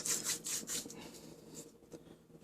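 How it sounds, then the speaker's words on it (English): Dried fenugreek leaves (kasuri methi) crumbled by rubbing between the hands, a soft dry rustling with several brisk bursts at first that fade to fainter scratching; no talking. "since this is flaky, I'm going to just rub it in between my hands"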